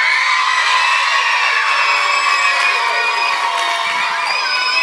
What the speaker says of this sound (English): y'all should clap a little louder for them